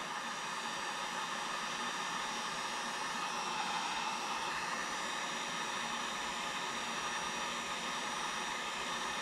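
Heat gun blowing hot air onto blue fuel line tubing for an RC smoke system in a 47% Pitts Special model, a steady, close, continuous broadband whoosh with no variation and no talking.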